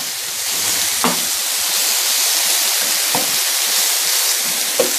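Scallops and mixed vegetables sizzle loudly on a hot griddle in a dense, constant crackling hiss, with a few sharp scrapes and taps as they are stirred.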